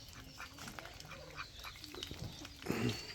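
Farm ducks quack in a few scattered, fairly faint calls against quiet outdoor background noise, with a louder burst of quacking near the end.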